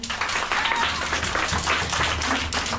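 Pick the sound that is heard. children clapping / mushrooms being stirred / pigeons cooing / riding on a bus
children clapping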